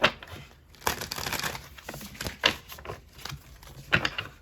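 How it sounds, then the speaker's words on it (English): A deck of playing cards being shuffled by hand, with irregular papery riffles and flutters and crisp snapping bursts, close and fairly quiet, with no talking. "want to make sure I shuffle it really well"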